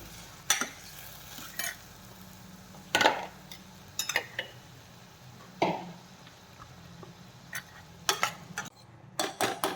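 Ridge gourd and chana dal are stirred and sautéed in oil in a pan, with close, irregular scraping strokes of a spoon against the pan over a low, steady sizzle.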